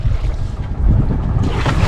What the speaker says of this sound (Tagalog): Alon pa rin sa labas.